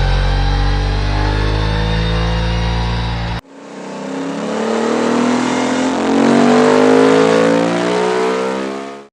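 An Aprilia Dorsoduro 900 motorcycle engine revving on a dyno, a loud sustained climb in pitch, a sudden cut, then another rising rev run held at high speed before dropping off.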